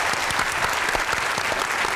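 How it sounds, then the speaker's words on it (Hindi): Studio audience applause on a Pakistani comedy talk show, steady dense clapping filling the whole stretch at close, even loudness with no talk over it. "इनको बुलाएंगे आपकी भरपूर तालियों में। कायद अहमद"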